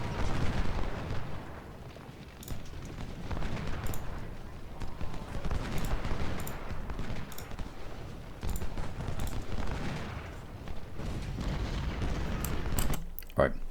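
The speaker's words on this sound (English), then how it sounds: "Might be able to get accurate shots on Hood." Artillery and rifle fire from the Ultimate General: Civil War strategy game at the Battle of Seven Pines, rolling booms and crackling volleys repeating throughout, with a voice talking over the battle.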